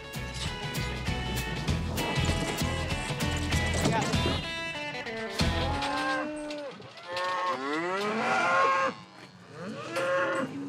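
Several hundred cows on a Montana ranch low and moo loudly while being vaccinated, with overlapping calls from many animals and a steady background clatter of livestock and handling.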